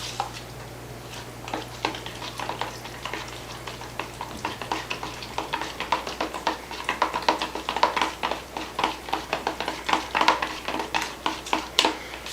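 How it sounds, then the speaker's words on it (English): Seafood lasagna filling being stirred together with seasoning and fresh herbs, a steady run of soft wet scraping and mixing strokes that grows slightly louder and more rhythmic toward the end, with no talking. "So now I'm just going to mix this together."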